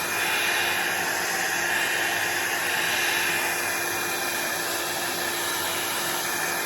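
A hair dryer blows continuously at close range over alcohol ink artwork, a loud steady rushing whoosh with a faint whine, uninterrupted from start to end.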